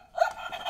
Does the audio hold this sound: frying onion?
no